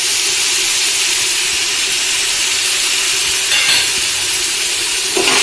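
Mint and coriander leaves frying in oil for mushroom biryani give a steady, close broadband sizzle that holds at an even level throughout, with brief stirring scrapes near the end.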